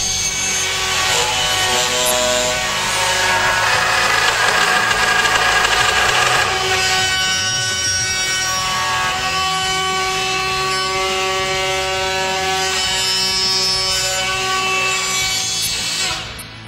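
A power drill boring a hole into a wood panel for a CEAM concealed hinge, a sustained whining tone with grinding, rubbing texture as the bit cuts, loud and close throughout before stopping abruptly at the end.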